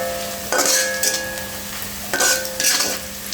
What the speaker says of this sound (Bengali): দেখেন পেঁয়াজটা কিন্তু আস্তে আস্তে ভাজা